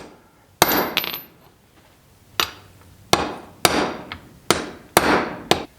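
Hammer striking an impact socket that pushes out an inner bushing piece on a 1970 Chevrolet C10 rear end: six sharp metallic blows, spaced irregularly with ringing decay, close and loud, no talking.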